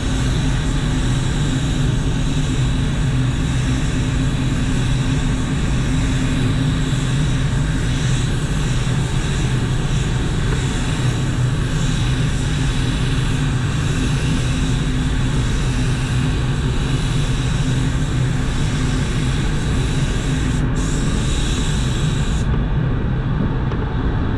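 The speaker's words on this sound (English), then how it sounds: "I'm just going to spray color right here, spray color on the edge of that bumper" A paint spray gun applying colour to the edge of a car bumper gives a continuous, loud airy hiss that holds steady for the whole stretch, broad and unbroken, before cutting off abruptly near the end.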